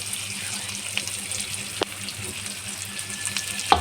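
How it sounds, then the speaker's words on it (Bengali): Sliced onion frying lightly in a pan for aloo posto gives a soft, steady sizzle with faint stirring clicks and one or two sharper utensil knocks, moderately close, without voices. "পেঁয়াজটা একটু হালকা করে ভাজবো"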